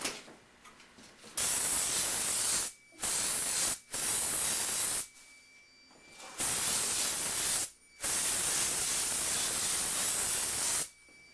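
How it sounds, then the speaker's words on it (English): Loud, close spray gun hissing in five bursts of varying length, separated by brief pauses, spraying PVA release agent for fiberglass work. "spraying PVA is like spraying water"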